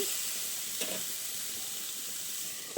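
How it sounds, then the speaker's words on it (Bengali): Potatoes and drumstick (moringa) pieces fry together in a pan, giving a soft, even hiss of sizzling oil with a couple of brief stirring scrapes. "আলু আর ডাঁটাকে একসঙ্গে করে নিয়ে আরও কিছুক্ষণ ভেজে নেব"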